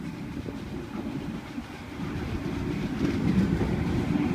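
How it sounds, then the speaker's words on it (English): A Sydney Waratah electric train rolls into platform 2 at Waverton station, a steady low rumble of wheels and clickety-clack that grows gradually louder as it nears. "Here we have a Waratah approaching platform 2."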